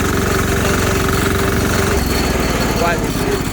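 A diesel engine swapped onto a Sears tractor idles loud and close with a rough, pulsing knock, and a voice briefly talks over it partway through.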